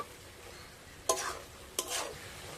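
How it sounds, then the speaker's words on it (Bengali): Spoon stirring a cabbage filling in a frying pan to dry it, heard as two short scraping strokes over a faint sizzle, close and quiet. "এইভাবে নাড়াচাড়া করতে করতে কফির রসটা আমি পুরোপুরি শুকনো করে নিয়েছি"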